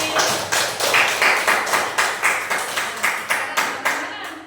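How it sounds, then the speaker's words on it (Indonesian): A sixth-grade class at an Indonesian primary school claps for the English group in a steady rhythmic pattern of about a dozen even beats, close and fairly loud, ending in a final clap. "Tepuk tangan dari kelompok Inggris"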